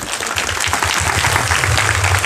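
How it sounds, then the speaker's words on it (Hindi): A church congregation claps together in a dense, even burst that stays loud and close for the whole stretch, over a low background hum. "ताली बजा सकते हैं आप"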